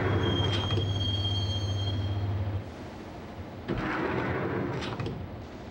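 Subway train from the PlayStation 2 game Max Payne, riding toward Roscoe Street Station: a steady rumbling roar with a sustained metallic wheel squeal that cuts off halfway, then a lighter rattle and brief clanks.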